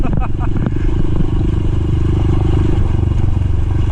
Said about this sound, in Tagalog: Napakasarap magmotor dito.